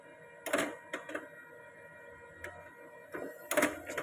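A Brother printer, just connected to a wireless network, gives off a few short mechanical whirring and clicking bursts, close and quiet, with no speech.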